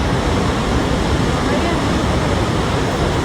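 Athirapally waterfall, the great cascade in south India, roars as a dense, steady wall of rushing water, loud and unbroken throughout with no voices.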